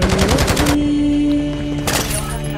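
Rapid turret gunfire in a Call of Duty match, loud and close, with dense bursts at the start and again near the end and a ringing mechanical hum between them.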